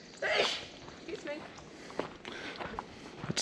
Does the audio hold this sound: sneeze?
yes